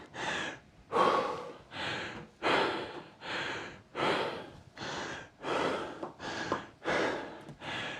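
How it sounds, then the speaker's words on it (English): A cyclist recovering from a one-minute hard effort breathes heavily and close to the mic, taking about ten deep, loud gasping breaths in a steady rhythm. "Going to concentrate on breathing for a second if you don't mind."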